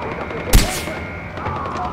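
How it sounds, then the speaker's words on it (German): A single sharp gunshot cracks loudly in the Far Cry 4 video game, followed by quieter game ambience and a voice speaking. "Ich stehe unter Beschuss!"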